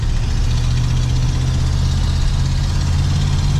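Idling V8-style engine of a 1984 Ford F-150 short box 4x4 pickup, a steady low rumble with constant loudness throughout, close and alone with no voices.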